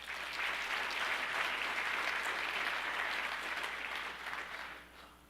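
An audience at a National Honor Society ceremony gives a round of applause, a loud sustained wash of clapping that fades out over the final second.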